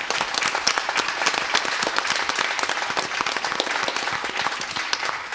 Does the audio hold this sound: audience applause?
yes